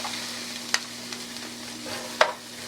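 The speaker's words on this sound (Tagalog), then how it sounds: "Pag mainit na siya, ang una kong ilalagay is yung sibuyas." White onions dropped into hot cooking oil for Filipino pork giniling give a faint, steady sizzle, with a couple of brief sharper crackles rising above the low frying hiss.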